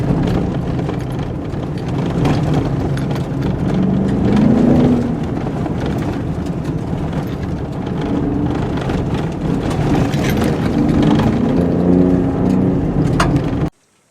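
A 2017 Ford F-150 Raptor pickup accelerates hard in third gear, its engine a loud, sustained low roar that rises in pitch as it pulls, heard from inside the cab and cutting off abruptly at the end.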